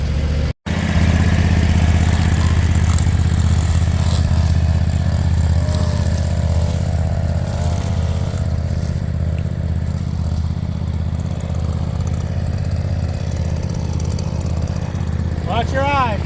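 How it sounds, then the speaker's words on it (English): A lawn mower runs continuously at a loud, steady mid-pitched engine roar while blowing out a grass trail, with some clatter over the constant drone. "So when I just came back around to take the mower back to the trailer, I went ahead and blew that out."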